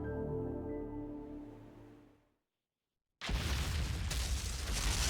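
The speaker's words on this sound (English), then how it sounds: "Random explosion." An explosion in the Devil May Cry 2 video game: a ringing tone fades to silence, then a sudden loud, broad blast bursts in and roars on steadily to the end.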